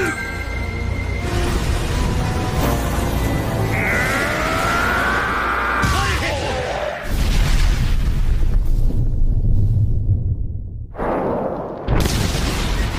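A magical sword blast from an animated fantasy battle erupts as a big booming explosion, a whooshing build then heavy roaring bursts and rumbling debris, loud and with no talk.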